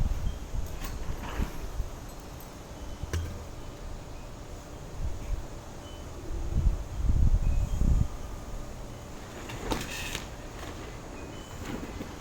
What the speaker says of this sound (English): The wind has been very strong this morning